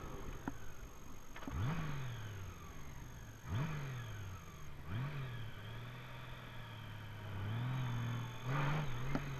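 A 2018 or later Honda Gold Wing motorcycle accelerating hard, its engine note rising in several sweeping revs through the gears, at moderate distance with a steady background drone and no speech.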